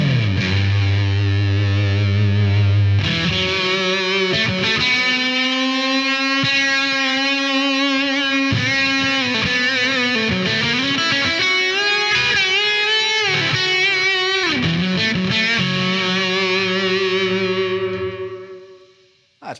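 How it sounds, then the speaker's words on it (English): Electric guitar through a Blackstar AMPED floorboard amp with heavy fuzz and delay, played loud and continuously with sustained distorted notes, bends and echoing repeats, ringing out and cutting off near the end. "If you add that in with that fuzz, oh, you get lots of noise to make."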